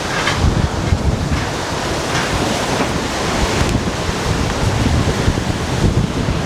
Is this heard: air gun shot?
no